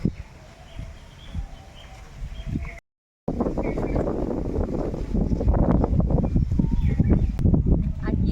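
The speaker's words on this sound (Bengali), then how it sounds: "আর হাওয়া এত যে আমাকে ঠেলেই ফেলে দিচ্ছে, গাছগুলো কি সুন্দর নড়ছে দেখুন মাঠে, দারুণ হাওয়া" Strong wind gusting through trees in an open farm field, a loud continuous rushing buffet with rustling, briefly cut by a short silent gap.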